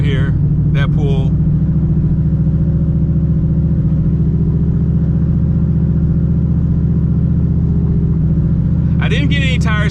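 A turbocharged SN95 Ford Mustang engine rumbles steadily at close range for the whole stretch, its low drone holding even with little sign of a sharp rev, while brief voices break in at the start and again at the end.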